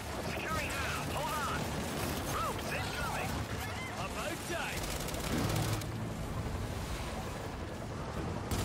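Gunfire from a hand cannon pistol in the Gears 5 Hivebuster campaign, heard as dense, continuous combat noise with rapid crashing shots and chaotic battle sounds filling the whole stretch at steady loudness.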